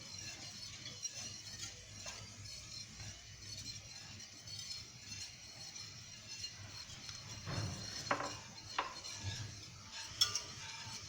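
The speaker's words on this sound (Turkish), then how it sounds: "Kaynayana kadar bu şekil karıştıracağım. Topaklanmaması için ağır ağır karıştırmam lazım." Pomegranate Turkish delight mixture being stirred slowly in a pot, giving soft scraping and occasional clinks of the utensil against the pan, fairly quiet and close, with a few sharper knocks toward the end.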